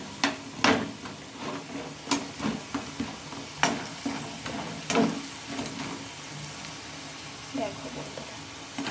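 A batter of chowmein and lentil pakoras fries in hot oil with a steady soft sizzle, broken by repeated sharp clicks and taps of a utensil against the pan.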